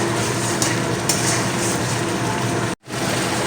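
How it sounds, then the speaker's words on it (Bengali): Mustard and poppy seed paste with ground dry red chilli sautés in a pan, giving a continuous close sizzle and soft scraping with one brief break in the sound. "সর্ষে পোস্তটা বেশি সময় কষাবো না আমি পাঁচ থেকে ছ মিনিট কষিয়ে নেব"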